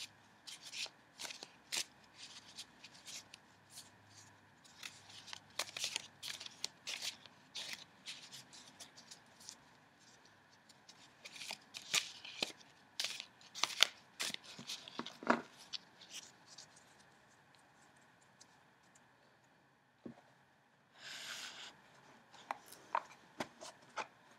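Playing cards from Cards Against Humanity being shuffled, repeated riffling and scraping bursts in irregular runs, close and fairly quiet, with brief pauses between shuffles.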